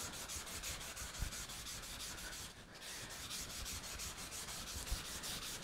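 Rhythmic back-and-forth strokes of wet sandpaper rubbing across wood while applying Danish oil, close and steady, with a brief pause midway.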